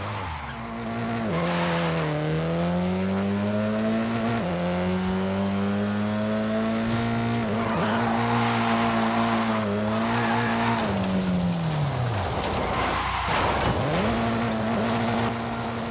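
Car drifting in the Forza Horizon 5 racing game, a loud steady engine drone with pitch swooping up and down as the tires squeal through long continuous slides, no talk over it.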